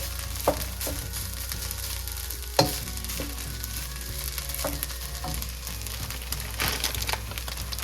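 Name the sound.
sautéing fried rice ingredients in a pan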